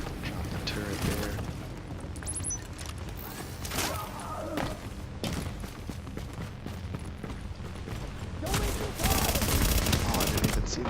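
Submachine gun fire in a first-person shooter, with dense rapid bursts rattling over continuous game noise, heaviest near the end, while a player talks over the action.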